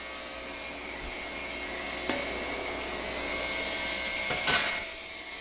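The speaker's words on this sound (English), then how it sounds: "let's stick the card inside of the ultrasonic cleaner. So as you probably can tell by the sound," An ultrasonic cleaner with a card inside runs loudly, giving a steady, harsh high-pitched hiss and hum with a couple of faint clicks along the way.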